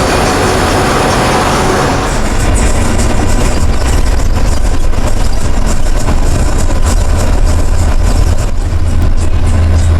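A Mexican bus labours up mountain roads through the Sierra Madre, its engine a loud, steady low rumble that stays constant, with rattling and road noise inside the cabin and no talking.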